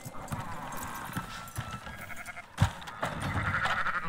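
Sheep bleat in Red Dead Redemption 2, several short, fairly faint calls over low outdoor ambience with a soft thump partway through.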